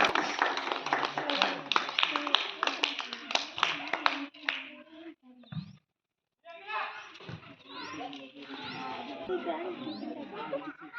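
Audience applause at a rangoli competition in Domakonda mandal: dense, loud clapping from a crowd fills the first few seconds, then stops briefly before resuming with chatter and children's voices mixed in.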